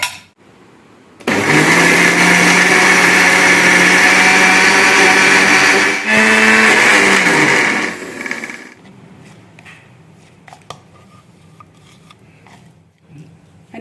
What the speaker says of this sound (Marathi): टोटल 4 मिरसांग घाले केला थोडे चिंचां घालून हें वांटूया